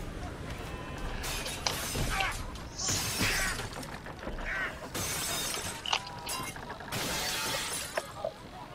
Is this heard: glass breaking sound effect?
yes